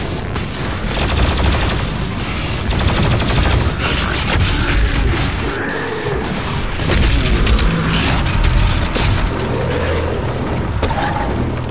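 Shotgun blasts and heavy combat in the video game Doom Eternal, a dense, loud, continuous barrage of booming shots and explosions layered over game music, with no pauses.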